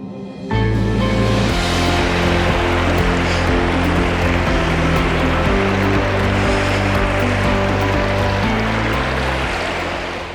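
The Northwest Bay River rushes steadily over small rapids, a continuous loud wash of water with sustained music playing over it.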